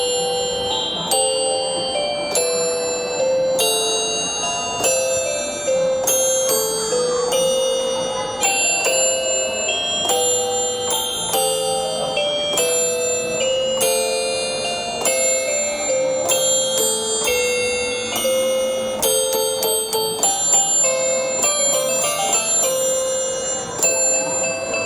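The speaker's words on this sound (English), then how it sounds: "Something keeps making a ting-ting ding-a-ling sound. Ah, this is the culprit. Santa's marching band." Santa's marching band Christmas decoration in a garden centre rings out loudly and alone, a busy, continuous jingle of bright bell chimes and ding-a-ling tones in steady musical rhythm.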